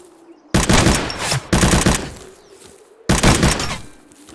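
An enemy's shotgun blasts in the pixel survival shooter ZERO Sievert, three loud bursts of heavy rapid gunfire separated by short pauses, close and dominant.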